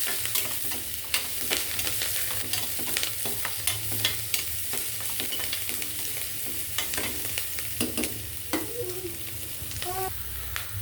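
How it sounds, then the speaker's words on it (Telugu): Curry leaves frying and being stirred in a pan while cooking beetroot and carrot rice, a steady close sizzle broken by scraping stir strokes and small pops throughout, with no talk. "కరివేపాకు కూడా వేసుకొని కొంచెం ఫ్రై చేసుకోండి"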